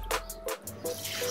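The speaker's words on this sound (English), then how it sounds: "For that, first we'll wash the jamuns." Jamun berries, also called Indian blackberries, being washed in water, with a tap running and short splashing bursts as the fruit is rinsed and stirred, close and fairly loud.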